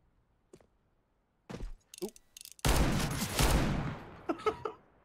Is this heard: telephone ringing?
no